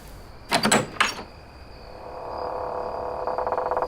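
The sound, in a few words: front door being opened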